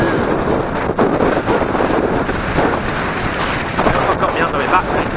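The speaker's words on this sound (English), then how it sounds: "Jesus, it's windy." Strong wind on Winter Hill buffets the microphone during a downhill bike ride, a loud, steady roar with gusty surges that stays near and constant.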